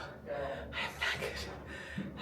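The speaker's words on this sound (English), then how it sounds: "Excuse the heavy breathing." Heavy, labored breathing up close after climbing many steps, a few rough gasping inhales and exhales in quick succession, quiet and breathy.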